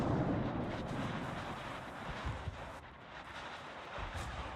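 Heavy 234mm naval guns boom in World of Warships, several deep rumbling blasts rolling under a dense, low background of battle noise, fairly faint overall with no talk.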